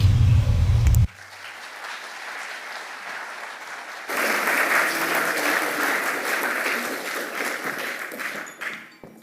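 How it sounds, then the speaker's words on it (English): Audience applause at an awards ceremony, a steady wash of many hands clapping that swells louder after a quieter stretch and tapers near the end, following a low burst at the start. "Another round of applause for that beautiful message."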